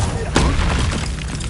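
A fire spell cast in the Hogwarts Legacy video game bursts out as a sharp whooshing blast that decays quickly, set against a dense, continuous bed of game sound.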